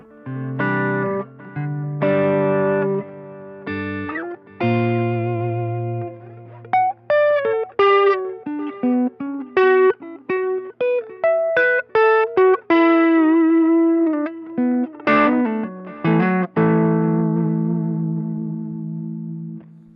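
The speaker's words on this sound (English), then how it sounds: "We're going to do some quick clean tones just to see clean what this thing can do." Clean electric guitar through a custom amplifier built from a toaster plays chords and picked single notes with short gaps, bright and ringing, fairly close and loud with no voices.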